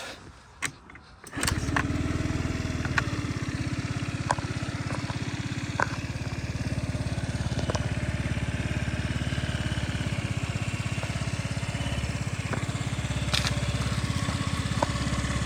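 A Honda Tact AF79 fuel-injected scooter engine starts up and settles into a steady, close idle, chugging evenly with faint clicks and rattles throughout.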